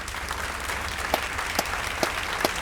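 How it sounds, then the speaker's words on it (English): Steady applause rolls on with a few sharper, louder claps standing out at regular intervals above the clapping. "Give him some applause"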